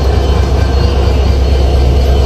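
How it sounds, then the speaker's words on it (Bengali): The 791/792 non-stop Banalata Express rolls into Dhaka Airport railway station, a loud, continuous, heavy low rumble from close range that stays steady for the whole stretch. "791-92 নন স্টপ বনলতা এক্সপ্রেস এখন রাইট নাও প্রবেশ করছে ঢাকার বিমানবন্দর রেলওয়ে স্টেশন"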